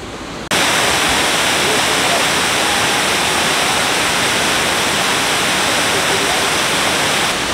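Waterfall in the Brecon Beacons, Wales, roaring close by as a loud, dense, unbroken rush of falling water that starts suddenly after a brief quiet moment and continues steadily.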